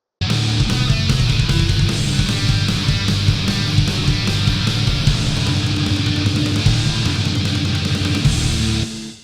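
Bass guitar plays the closing section of a song, steady and loud throughout with dense low notes, muted guitar parts and a drummer's snare roll, cutting off abruptly just before the end.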